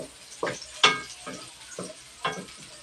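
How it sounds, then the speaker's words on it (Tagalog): Garlic and onion sauté in a hot pan for beef kalderetang baka. The sizzle is soft and close, with several sharp stirring scrapes and spatters spaced irregularly and no talking. "Gisa-gisa mo na yung bawang at saka sibuyas."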